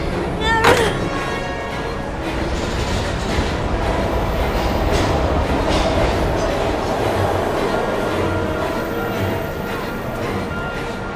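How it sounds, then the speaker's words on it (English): A train in the video game Heavy Rain rumbles loudly and steadily with rhythmic rail clatter and a brief sharp squeal near the start, and a voice talks over it. "We've got to get on that train, Ethan."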